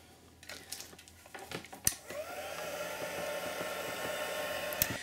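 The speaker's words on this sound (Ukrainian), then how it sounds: "прийшов час підсушити їх трішечки феном" A hair dryer blows over freshly stamped ink, starting after a few clicks and handling noises and then running as a steady airy whir to the end.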